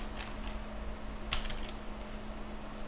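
Light keystrokes on a computer keyboard make a few faint, scattered clicks, with a brief cluster near the middle, over a quiet electrical hum.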